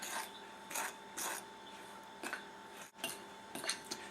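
A fork cuts cold butter into flour for a raspberry and white chocolate dessert dough, giving repeated scraping and clinking strokes against a bowl, moderately close and fairly quiet, with no talk.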